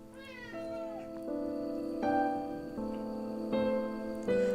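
A cat meows repeatedly, giving about five drawn-out, tonal calls in succession, clear and close with little else around.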